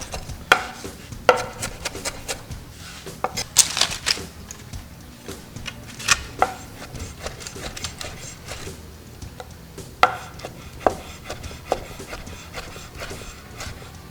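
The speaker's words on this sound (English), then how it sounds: "we're just going for a rough, coarse chop" A kitchen knife chops fresh herb leaves roughly on a cutting board, giving irregular sharp knocks, sometimes in quick bursts and sometimes spaced apart, close and fairly loud with no talk.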